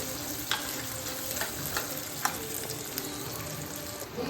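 Garlic, shallots and curry leaves sautéing in hot oil for vathal kuzhambu, a dense continuous sizzle with faint spoon taps scattered through it, close and even, no speech.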